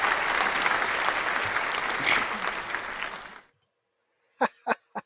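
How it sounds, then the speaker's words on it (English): A crowd applauds in dense, sustained clapping that stops abruptly, followed after a pause by a few sharp separate claps or knocks. "Oh, you mean the applause?"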